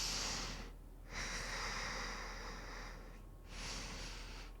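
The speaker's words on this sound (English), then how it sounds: "We breathe." Slow, audible breathing during a gentle yoga flow class: two long, airy inhale-exhale cycles close to the microphone, separated by brief pauses, with no talking.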